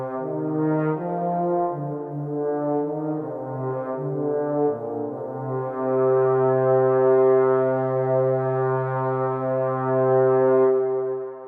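Low brass bass line from the Final Fantasy XII soundtrack, a slow sustained melody of long held notes moving stepwise, played alone with no voices.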